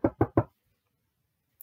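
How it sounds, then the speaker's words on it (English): Three quick, loud, evenly spaced knocks strike a gate up close, followed by silence and a faint noise at the end. "So again, the servant knocks on the gates."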